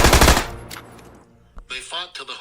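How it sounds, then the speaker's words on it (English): Old-time radio drama sound effect of a gun battle between gangsters and G-Men: a loud burst of rapid machine-gun fire, fading into a few scattered shots, followed by a voice starting to talk. "The Barker gang opened fire. The G-Men fired back."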